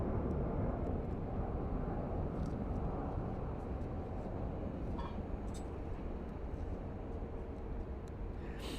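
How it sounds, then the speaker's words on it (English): An Allegiant Airlines jet departing at night from Phoenix Sky Harbor, a steady low roar of engine noise that holds constant at a distance, with a few faint clicks over it. "here we have an Allegiant Airlines departing, probably to Stockton"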